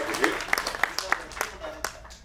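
An audience gives a short burst of clapping for Kavitha madam at a speech event, irregular nearby claps standing out over a murmuring room.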